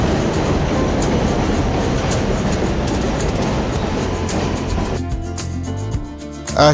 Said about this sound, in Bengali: উপর দিয়ে মেট্রো যাচ্ছে, অনেক শব্দ হচ্ছে। স্টিল স্ট্রাকচার তো, তাই অনেক শব্দ হচ্ছে।